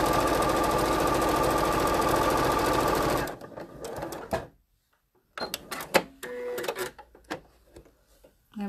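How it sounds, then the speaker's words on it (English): Sewing machine stitching a quarter inch seam in fabric, a loud steady rapid mechanical whir for about three seconds, then stopping, followed by quieter handling clicks and rustles. "And now I'm doing a quarter inch seam."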